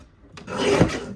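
A quick rasping slide of a paper trimmer cutting slate-gray cardstock for a coastal page kit, a single close stroke of about a second.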